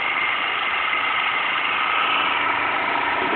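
A homemade Newman motor replica runs with a steady, even electric whir that stays constant and close throughout, with no voices.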